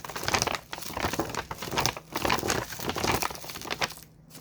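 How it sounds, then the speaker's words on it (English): Paper being rolled around a candle with herbs tucked inside gives a steady, close crinkling and rustling that continues for several seconds without talk. "you take the candle, you put it inside your paper and you roll the herbs in it to cover the candle."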